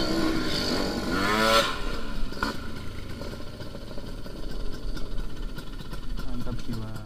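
A Suzuki Satria 120 motorcycle engine runs at a 2017 bike meet in Malang, a buzzing mid-pitched drone under busy background noise while people talk nearby.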